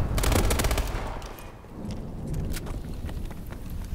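Call of Duty combat erupts in dense, rattling gunfire and booming grenade blasts, loudest at the start, then rolling on as a continuous barrage without talk.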